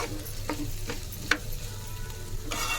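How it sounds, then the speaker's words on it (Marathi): Washed poha goes into a hot pan and is stirred, giving a soft steady sizzle with a few sharp spatula scrapes and taps against the pan, close by. "आता मी हे पोहे धुवून ठेवलेलं सोडूया त्यांना आतमध्ये"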